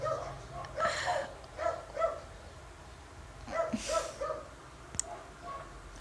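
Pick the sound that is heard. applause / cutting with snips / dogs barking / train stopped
dogs barking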